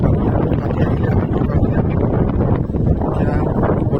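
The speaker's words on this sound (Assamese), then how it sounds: "কিমান বতাহ চলি আছে ইয়াতে" Strong wind sweeps across an open farm where a farmhouse is being built, buffeting the microphone with a loud, continuous rumbling roar that barely lets up.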